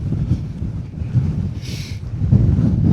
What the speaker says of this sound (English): Well, it's absolutely wild out there.